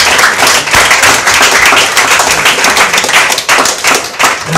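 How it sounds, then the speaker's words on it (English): An audience at a hackathon prize giving applauds, loud and dense clapping from many hands sustained throughout, close and steady with no speech. "Can we get a big round of applause, please?"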